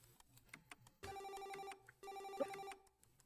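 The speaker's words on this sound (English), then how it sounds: "answer that bloody phone" A telephone rings twice in two even bursts, faint and slightly distant, alongside light keyboard tapping in a home gaming setup.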